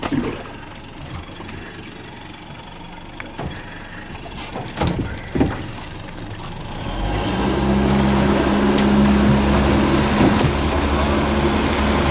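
A fishing boat's motor rises from quiet clunks and rattles into a steady loud drone with a sustained hum as the boat heads upriver.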